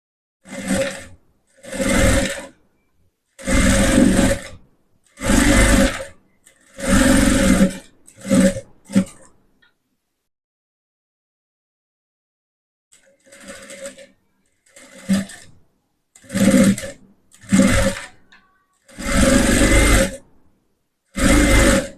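A sewing machine stitches a blouse. It runs in repeated short bursts of whirring, about a dozen in all, with a long silent pause near the middle. The machine sounds close and loud, and no one talks over it.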